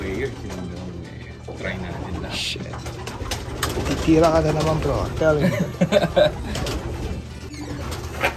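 Champion racing pigeons coo in soft, warbling bursts close by, mixed into men chatting and laughing in a pigeon loft.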